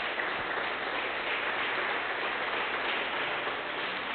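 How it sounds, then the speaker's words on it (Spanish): A church congregation claps in praise during a sermon, producing a continuous hiss-like patter of many hands, steady and moderately loud, somewhat muffled in tone. "denle un aplauso al Señor"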